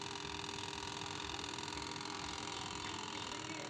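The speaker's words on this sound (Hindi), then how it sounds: "ये देखिए आवाज़ कर रही है, लेकिन मोटर चल नहीं रही है।" A washing machine spin motor with a fault hums and buzzes steadily without turning, giving a constant mechanical drone with a fine rattling texture, close and even throughout.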